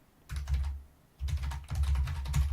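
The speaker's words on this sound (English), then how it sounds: "Now you can hear me typing." Fast typing on a computer keyboard produces dense bursts of clattering keystrokes, close and clear, in two runs separated by a brief pause.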